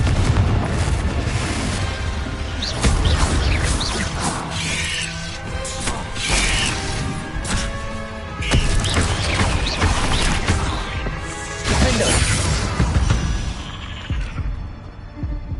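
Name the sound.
Hogwarts Legacy spell blasts (Confringo, Incendio), from a video game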